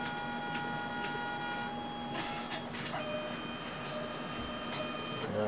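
A Canon Selphy CP800 photo printer whirs steadily as it prints, a continuous mechanical hum with tonal motor whine and a few clicks, heard close up.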